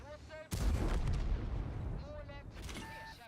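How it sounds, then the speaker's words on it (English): A 100mm tank gun fires in the World of Tanks video game, a sudden loud boom with a long rumbling tail and metallic game effects, alongside intermittent speech. "That's what a 100mm gun does."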